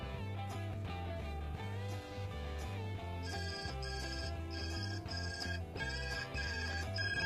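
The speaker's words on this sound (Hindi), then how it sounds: "मेरा ये फोन रिंग होना शुरू हो गया।" A mobile phone rings continuously with a looping melodic ringtone, loud and close, sounding alone without speech.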